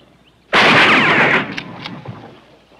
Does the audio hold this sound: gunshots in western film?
yes